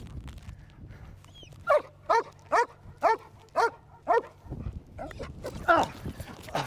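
Frazier, a multi-purpose police dog, barks during bite training: six sharp, loud, evenly spaced barks close by, followed by a burst of quicker, rougher barking and growling.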